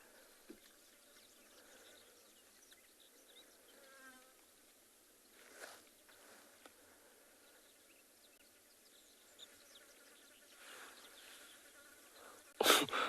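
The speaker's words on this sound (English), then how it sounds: "All I can hear is the little buzzing flies around." Small flies buzz around outdoors in the South African bush during an afternoon safari. Their faint, intermittent hum passes close now and then over a quiet background, ending with a brief louder rustle.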